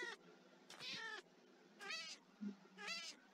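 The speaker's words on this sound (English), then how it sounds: "Oh, the cat's dying." A drowning cat in the game Minecraft meows four times in short, rising and falling calls, clear but moderately quiet, with no talking.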